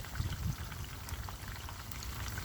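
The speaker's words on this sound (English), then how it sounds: "I got fish frying." Fish frying in hot oil for Jamaican brown stew fish, a faint, steady bubbling sizzle with scattered soft pops throughout.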